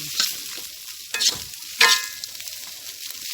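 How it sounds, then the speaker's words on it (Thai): Chopped field rat stir-fried with chili curry paste in a hot pan, a steady close sizzle broken by three scraping stirs of a spatula against the pan, with no voices. "คั่วจนพริกแกงแห้งอ่ะจ้ะ"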